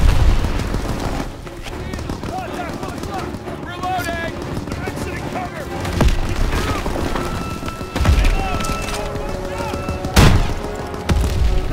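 Heavy gunfire rattles through a Call of Duty WWII battle in the Death Factory mission, with repeated bursts of machine-gun fire and booming shots over shouted voices, loud and close, peaking in sharp blasts near the end.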